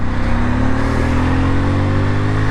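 A Bajaj Pulsar N250 motorcycle engine on a ride, giving a loud, steady close-up drone whose pitch climbs gradually as it pulls, with no talking.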